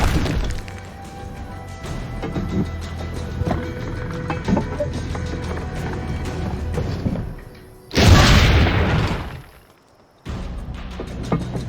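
Cannon fire in the video game Assassin's Creed Brotherhood: a long stretch of low rumbling and clattering, then a sudden loud booming blast with a crackling burst that dies away into near silence before the din resumes.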